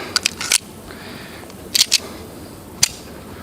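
Three bursts of 1911 pistol fire with 10mm Auto rounds: sharp broadband reports at a slow, measured pace, the first cluster of about four shots, then a close pair, then a single shot after a pause.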